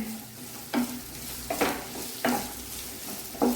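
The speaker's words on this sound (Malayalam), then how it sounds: "എന്നിട്ട് ഇതൊന്ന് ഹൈ ഫ്ലെയിമിലിട്ട് ഒന്ന് ഞാൻ വഴറ്റിയെടുക്കുകയാണേ" Onion and capsicum sizzle steadily in a pan over a high flame, with four sharp scraping stirs spaced evenly through the frying.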